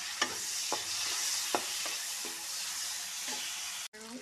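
Tomatoes and turmeric fry with red chili in a wok, a steady loud sizzle with several scraping stir strokes at intervals, cut off abruptly near the end.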